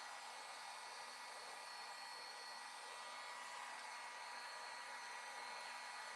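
A heat tool blows hot air during a wash board craft project, a steady, even broadband whoosh that holds unbroken at a constant level from start to finish, with no voices heard.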